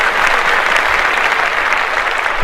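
Dense, steady audience applause fills the whole stretch, loud and even with many hands clapping at once and no voices rising above it.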